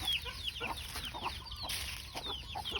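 Backyard chickens at a countryside home cluck repeatedly in short, overlapping calls, fairly close and moderately loud, with no one talking.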